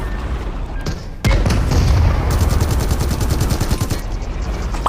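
Sustained automatic gunfire in the PUBG Mobile tank and artillery mode, a loud unbroken rattle of rapid shots that begins abruptly and carries on with dense rhythmic bursts, close and heavy, with no talk over it.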